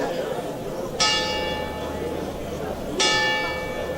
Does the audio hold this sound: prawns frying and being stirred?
no